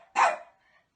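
A dog gives a single short, sharp bark, close and fairly loud, followed by a faint whine trailing off in a quiet room.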